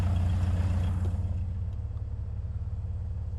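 Aircraft engine drone in Microsoft Flight Simulator, a steady low rumble that holds and slightly eases off, heard alone without talking.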